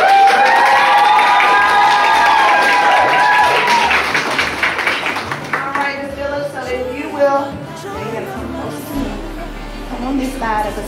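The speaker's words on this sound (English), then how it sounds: "Y'all can clap." Audience clapping and cheering after a bar admission oath ceremony in Georgia, loud crowd applause with shouts at first, thinning into scattered claps and voices as talk resumes.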